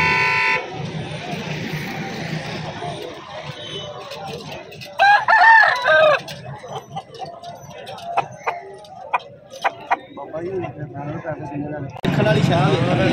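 A rooster crows at a busy bird market selling Aseel breeder fowl, a loud nearby call rising over crowd chatter and vehicle horns while people talk throughout.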